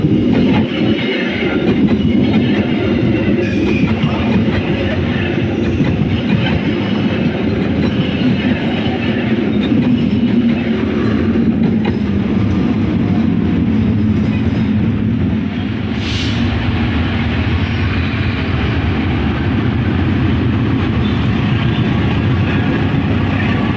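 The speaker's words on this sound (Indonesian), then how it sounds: "Kereta api Gajayana." The Gajayana passenger train rumbles past loudly and continuously, with a heavy low roar and rattling wheels over the whole stretch.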